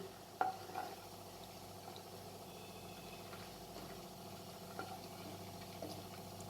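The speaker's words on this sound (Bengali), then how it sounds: "আমি এখানে একটা কড়াইতে কিছুটা সাদা তেল গরম করে নিয়েছি। এবার আমি একটা বল দিয়ে দেখব যে আমার বলটা ফেটে যাচ্ছে কিনা।" A chhana ball fries in hot white oil in a kadai, a faint, steady low sizzle with a soft bump or two near the start, heard alone without speech.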